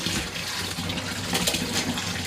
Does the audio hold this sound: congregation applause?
no